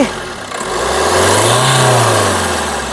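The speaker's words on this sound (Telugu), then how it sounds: "ఇంజన్ యొక్క నాయిస్ సైలెంట్గా అయితే ఉందండి ఒకసారి రేజీ" A 2016 Maruti Suzuki S-Cross engine revs up, holds a loud, rising hum for a moment, then eases back, heard up close.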